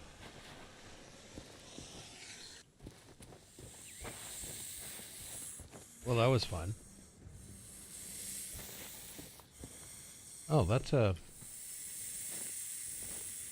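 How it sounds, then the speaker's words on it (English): Two loud, sharp snake hisses in Sea of Thieves, one near six seconds and another near eleven, cut through a low game ambience. Someone speaks briefly between them. "Oh, there's another snake. Apparently there's snakes all over this island."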